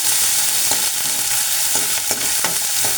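Onions frying in very hot oil left over from cooking pakoras for kadhi pakora, a steady dense sizzle that crackles and pops throughout, close and loud with no talking.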